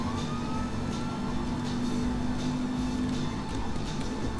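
A police siren wails in Grand Theft Auto Online, a sustained tone over rumbling traffic and engine noise.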